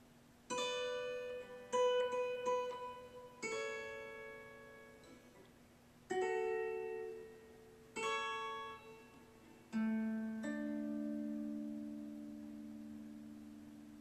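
A guitar picks single notes and small chord figures from a song, each struck note ringing and decaying, with pauses between phrases; quiet and close.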